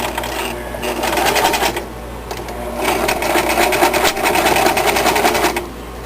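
A sewing machine stitches layers of a baby quilt, its needle running in steady rapid bursts with short pauses between runs, loud and close with no talking.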